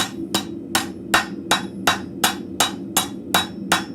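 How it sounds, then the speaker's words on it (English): A cross peen hammer strikes hot steel on an anvil while forging arrowheads, ten sharp ringing blows at a steady even rhythm, close and alone. "I'm just using the flat side of my hammer. Obviously, I'm using a cross peen."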